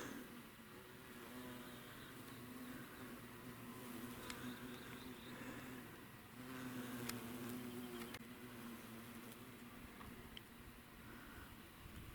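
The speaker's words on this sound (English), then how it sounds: "This bush attracts the big bees." Large bees buzz steadily around a flowering bush on a canyon loop trail, a continuous droning hum at moderate distance, rising a little as they pass closer, with no talking.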